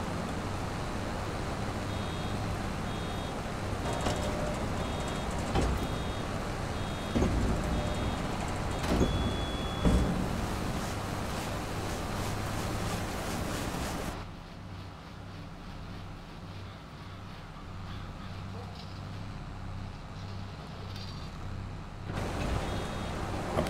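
A tractor driving around a farm in Farming Simulator 22, hauling silage with a Göweil implement: a steady low engine drone with mechanical clatter and faint beeps, dropping in level partway through, then resuming.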